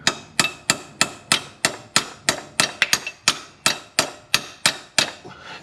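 Repeated sharp metallic hammer blows while knocking a part out during a car clutch installation, about three strikes per second in a steady rhythm with one quick double hit, close and loud with no voices.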